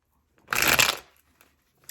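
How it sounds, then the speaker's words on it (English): A deck of tarot cards being shuffled once in a quick riffling burst of papery flutter lasting about half a second, close and fairly loud, followed by a couple of faint card taps. "I'm just going to go ahead and shuffle"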